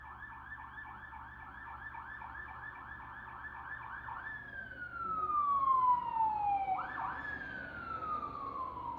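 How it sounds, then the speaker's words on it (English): Distant emergency sirens wail, one rapid yelping pattern shifting into long rising and falling tones, faint against background traffic. "Should we pause for sirens?"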